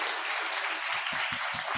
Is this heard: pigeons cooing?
no